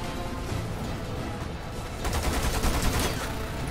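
Rapid gunfire from the co-op shooter Lost Planet 2, steady bursts throughout that grow louder and denser in the second half, with no voices.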